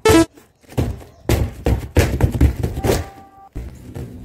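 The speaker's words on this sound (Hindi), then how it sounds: "जोर से लात पे बुक्की में फट चुकी है टाकी" Several loud, hollow thumps and thuds strike close by in irregular bursts as a water tank is kicked and punched, blows against a plastic tank, with short pauses between.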